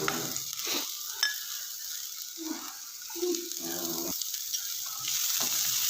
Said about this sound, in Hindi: फ्राई कर दिया है और इसमें ये तमाम सब्जियां शामिल कर दी हैं।